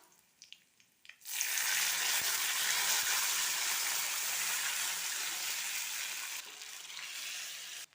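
Rasam hits a hot tempering of mustard seeds, urad dal, dried red chillies and curry leaves in a pan, breaking a second of near quiet with a loud, close, steady sizzle and crackle that holds to the end.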